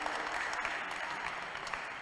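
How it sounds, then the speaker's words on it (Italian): A crowd at a church event applauds a primary school, giving a steady, dense patter of clapping that fills the whole moment at even volume, heard from a moderate distance in a reverberant hall. "Dai un applauso a tutta la scuola primaria che ha fatto bene"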